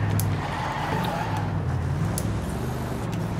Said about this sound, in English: this truck sounds so good